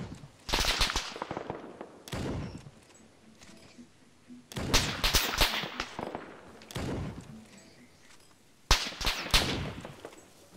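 Sniper rifle fire in the military video game Arma 3, several sharp loud cracks spaced a few seconds apart, each trailing into a short rumbling echo.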